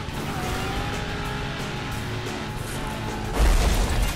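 A race car in the Burnout Paradise Remastered video game on Xbox One: a steady, loud engine drone runs throughout, ending in a sharp burst of tire squeal and impact noise near the end.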